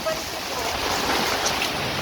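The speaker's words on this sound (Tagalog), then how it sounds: "basang-basa na din ako dahil sobrang lakas ng ulan at malakas ang hangin." Heavy rain and strong wind roar outdoors as a steady, broad wash of noise with gusty buffeting on the microphone, no voices over it.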